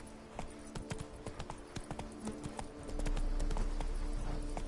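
Galloping horse hooves in The Witcher 3: Blood and Wine, a steady rapid clip-clop that stays close and fairly loud, with a low rumble swelling toward the end.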